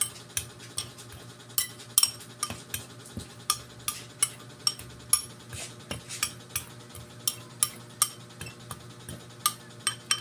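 A vitamin mix for chickens being stirred in a container: a light metallic clink repeats in a quick, fairly regular rhythm, each tap close and crisp against a quiet background, with no talking.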